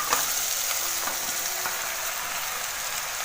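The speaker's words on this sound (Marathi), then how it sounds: "आणि व्यवस्थित सगळी परतून घ्यायची, म्हणजे जो मसाला आहे तो सगळं आपल्या इडलीला लागायला पाहिजे" Masala idli pieces stir-fried in a pan, a steady close sizzle with faint scraping of the spatula, continuous and fairly loud throughout with no talking.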